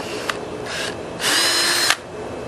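Close, loud power drill driving screws into a door hinge during a door installation, with short revving pulses followed by a longer, steady whir, all without talk.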